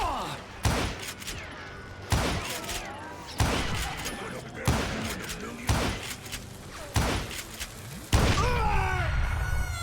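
Repeated heavy gunshots from Call of Juarez Gunslinger land at roughly one-to-two-second intervals, each a sharp loud blast with a ringing tail, amid game sound effects and talk.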